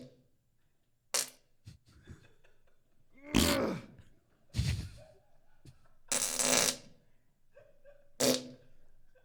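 Several short fart noises burst out one after another with quiet gaps between them, some sharp and some longer and rasping. Nobody speaks during them.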